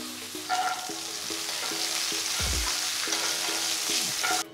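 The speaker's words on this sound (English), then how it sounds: "once the mustard seeds have splattered and the peanuts have been roasted" Mustard seeds, peanuts, red chilies and curry leaves fry in hot oil, a loud continuous sizzle and crackle close by with stirring clinks against the pan, the spattering steady throughout.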